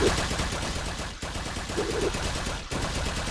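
A Toxic Gunner tower in Tower Defense Simulator fires rapid continuous bursts of gunfire against Breakers, a dense, loud rattle broken by two brief pauses.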